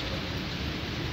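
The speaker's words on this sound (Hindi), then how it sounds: "इधर तो काफ़ी जो है वो तेज़ बारिश आज लगी हुई है रवात में" Heavy rain pours down steadily in Rawat, a dense, continuous hiss filling the air without pause or voices.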